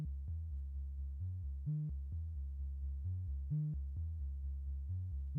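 Steady synthesizer tones from a Korg NTS-2 oscillator set to a sine wave, pitch stepping in a repeating pattern of short notes, soft and clean with no voices.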